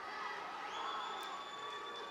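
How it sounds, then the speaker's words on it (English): A crowd at a high school team sectional wrestling meet cheers and screams as its wrestler scores a reversal and cradle, a steady distant roar of voices. "Holman's crowd screaming again as they got a reversal and a cradle on their opponent"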